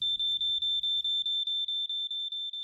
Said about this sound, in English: Make sure you fit a smoke alarm and test it weekly.